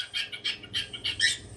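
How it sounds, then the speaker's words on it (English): Pet bird whistling and calling indoors in a string of short, bright, rising chirps, close and fairly clear, followed by a brief louder note at the end; no talk. "he's doing the wolf whistle"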